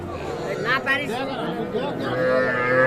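Cattle lowing at the Raniganj livestock market in Ghoraghat, Dinajpur, where young bulls and heifer calves are traded; a few moos rise over steady crowd chatter and nearby voices.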